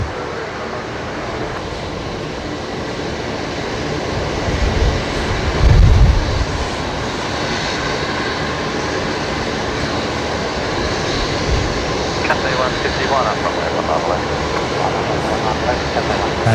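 An aircraft arriving at Brisbane Airport, a continuous broad engine rumble with a brief louder low swell partway through, heard at a distance beneath intermittent talk.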